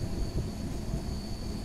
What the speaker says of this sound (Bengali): এই মাঠের মাঝখান দিকেই আমাদের ট্রেনটি ছুটে যাচ্ছে কুয়াশার মাঝখান দিয়ে।